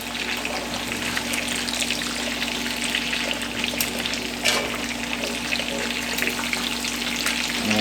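Steak sizzles steadily in a hot pan just after being flipped, a constant crackling hiss with faint stirring noises and a low hum beneath, with no voices.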